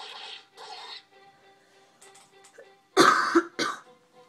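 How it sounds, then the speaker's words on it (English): A person coughing, a few short harsh bursts near the end after some quieter throat sounds, close and fairly loud, with faint game sounds underneath. "Sorry for coughing"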